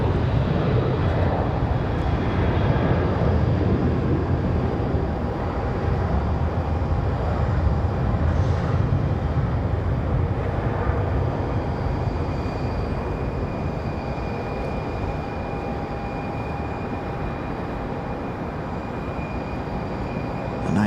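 An airliner departs from Raleigh-Durham airport with a steady broad engine roar heard from a distance, gradually easing in loudness as it climbs away, with no talking.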